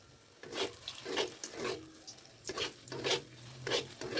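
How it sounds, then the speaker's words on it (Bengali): Carrot pantua sweets frying one by one in hot oil in a kadai, with soft bubbling sizzle and repeated rhythmic stirring or scraping strokes, fairly quiet and close. "এবারে আমি এগুলোকে একে একে ভেজে নেব।"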